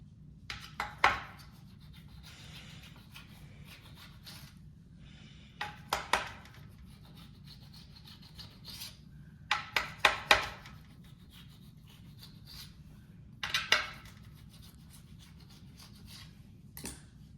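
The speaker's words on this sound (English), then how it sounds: "We're gonna cut it in the middle, and then we're gonna cut it into 10 slices." A knife slices pizza dough into sticks for cheesy taco sticks, giving short scraping, tapping cuts in irregular clusters, close and fairly crisp, over a steady low background hum with no talking.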